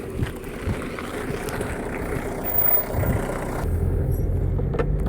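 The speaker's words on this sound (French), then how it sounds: "Alors je vais aller en voiture et je vais aller le chercher." Car driving, heard as a steady low engine rumble and road noise from inside the vehicle. The drone deepens and grows slightly louder in the last seconds, with no talking.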